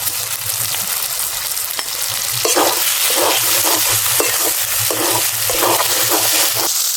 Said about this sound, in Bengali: এবারে আমি কুচনো লঙ্কা দিয়ে দিচ্ছি। সাথে ভেজে রাখা আলু দিয়ে দিচ্ছি।